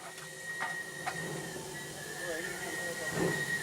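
An old Great Western steam locomotive pulls forward, giving a low mechanical rumble with faint squeals and a few sharp clanks, moderately loud and steady, with no one talking.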